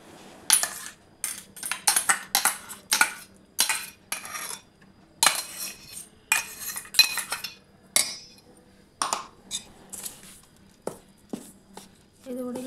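A spoon stirs blended tomato paste in a pot while boiled-tomato pickle is being made, giving a rapid series of light metallic clinks and scrapes in uneven bursts, close and fairly quiet.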